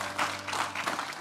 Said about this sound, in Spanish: Dele ese aplauso fuerte a Cristo porque Él es bueno.